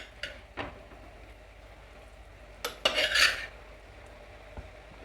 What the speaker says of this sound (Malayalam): ഇനി ഇതിലേക്ക് മീനുകൾ ആഡ് ചെയ്യട്ടെ